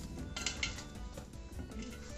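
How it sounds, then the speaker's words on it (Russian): Seasoned potato pieces are stirred in a bowl before oven baking, giving quiet scraping and a few light clinks of utensil against dish in an irregular rhythm. "мешаем."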